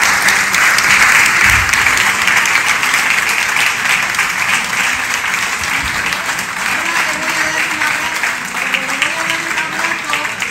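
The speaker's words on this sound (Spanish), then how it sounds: "yo creo que le tenemos que dar un aplauso a él todos" An audience at a presentation breaks into loud, sustained applause, a dense wash of clapping that holds steady for about ten seconds, with faint voices mixed in.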